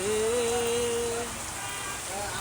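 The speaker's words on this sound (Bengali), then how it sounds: "দেখেন কি বৃষ্টি হচ্ছে" Heavy monsoon rain pours down in a dense, continuous roar, with a faint melodic line drifting over it.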